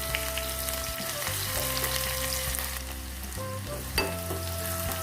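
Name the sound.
onions frying in oil with cumin and mustard seeds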